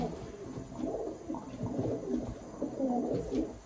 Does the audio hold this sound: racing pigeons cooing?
yes